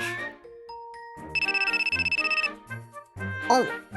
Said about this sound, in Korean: 전화 좀 받을게요